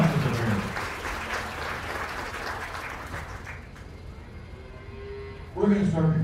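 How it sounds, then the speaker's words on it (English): An audience at a goat show claps for the youth exhibitors, a dense round of applause that slowly thins out, followed by a voice speaking over the sound system. "I want to give all these youth a big round of applause."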